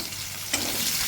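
Cumin, two bay leaves and an onion sizzle in hot oil, a brief close hiss that swells as ingredients hit the pan.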